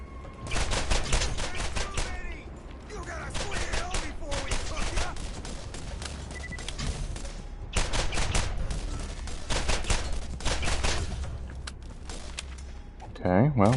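Shotgun fire in the shooter game Borderlands 1, with a rapid run of loud blasts packed close together. Someone talks over the shooting.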